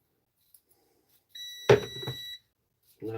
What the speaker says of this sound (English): that beeping's the multimeter switch and still off